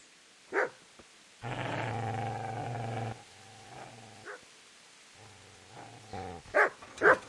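Dog growling and barking in the medieval game Kingdom Come: Deliverance, a sustained low snarling growl followed by a few sharp barks and short yelps, clear and close with no voices.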